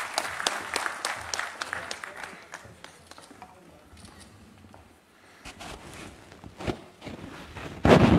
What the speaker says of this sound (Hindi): जोरदार ताली के साथ स्वागत और अभिनंदन करें